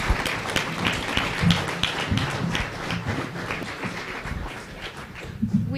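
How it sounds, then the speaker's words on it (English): An audience at a candidates forum for North Platte city council and school board races gives a round of applause, a moderate, steady patter of many hands clapping at middling distance for several seconds before tapering off. "How about a round of applause for these fine candidates?"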